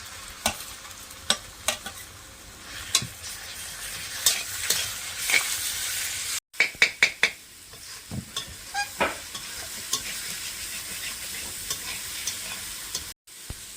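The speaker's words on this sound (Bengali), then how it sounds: "হালকা করে ভেজে নিয়েছি এবারে আদা রসুনটা দিয়ে দেবো রসুন বাটা" Ginger and garlic paste frying in a pan, a continuous close sizzle punctuated by repeated scraping clacks of a spatula stirring at an uneven rhythm, with no talk.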